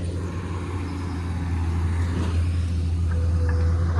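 Tata dump truck arriving near an excavator at a tunnel worksite, a steady low diesel rumble that holds at an even, fairly loud level throughout.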